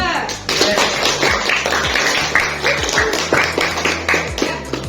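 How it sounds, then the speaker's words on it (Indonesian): A classroom of students applauding a group after its geography presentation, steady crowd clapping throughout with voices mixed in. "kita berikan aplaus kepada kelompok Tumpung Laung 2"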